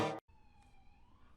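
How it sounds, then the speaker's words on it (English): A police siren wailing at a distance, a thin steady tone that slowly rises, heard faintly after an abrupt cut from louder sound. "Why is there a police siren?"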